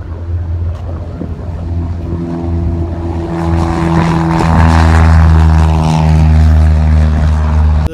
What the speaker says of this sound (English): As a plane takes off behind me, the airport's future is in doubt.